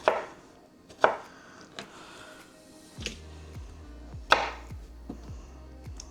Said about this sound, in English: I am going to chop up all the tomatoes, though, and get those in.